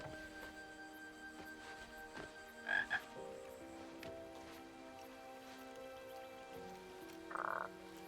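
Frogs croaking in the video game King's Quest, a few short croaks standing out against a quiet ambient game background with faint musical tones.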